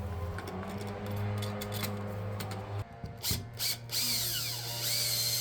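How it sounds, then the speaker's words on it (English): A Reolink video doorbell is fastened to the wall with a single screw, with a run of ratcheting, clicking driver turns up close, a brief pause, then a few sharper knocks and squeaks, with no talk. "we're going to attach it with only one screw, because the bottom screw didn't line up with the hole"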